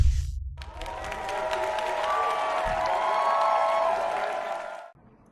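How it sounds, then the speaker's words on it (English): A concert crowd in Hamburg in 2006 cheers and applauds after a power loss, a dense, sustained wash of clapping and shouting from a large audience heard at a distance, cutting off abruptly near the end. "And a cheer from the audience"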